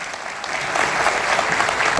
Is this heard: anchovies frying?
no